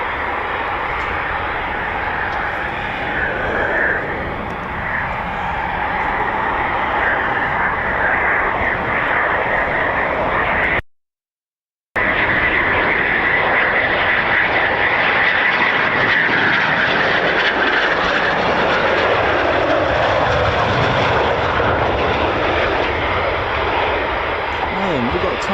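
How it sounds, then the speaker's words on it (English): A Eurofighter Typhoon FGR4 jet taxis out for departure at RAF Coningsby, its loud, continuous engine roar and whine filling the air, broken by a short dropout of silence midway. "we've got Typhoon taxiing out for departure as well"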